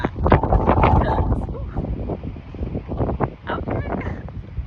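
Gusty outdoor wind buffets the microphone in a garden with strawberry plants, a constant low rumble of blustery noise with someone talking over it.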